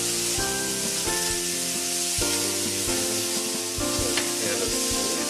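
Butter sizzles in a pan while venison browns for a venison Marsala, a constant frying hiss that stays close and even, with tonal sounds layered over it and no talking.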